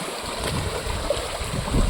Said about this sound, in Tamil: இறங்கி இங்கே பாருங்க ஃபுல்லாக தண்ணி போயிட்டு இருக்குது.